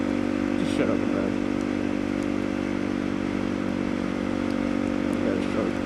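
Motorcycle engine droning steadily at close range throughout while riding, a continuous hum with faint clatter and no clear revving peaks.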